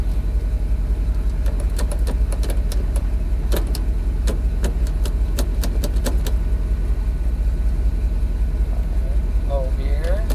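A station wagon's engine runs steadily in gear, a low continuous hum with a series of light clicks and taps over it, and a voice briefly near the end.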